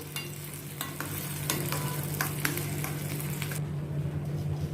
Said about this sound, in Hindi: इसको अच्छी तरह से अनियन के साथ मैं मिक्स करती हूँ।